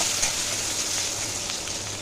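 Steady, close sizzling of potatoes and onions frying in a hot pan, a continuous crackling hiss with no talking.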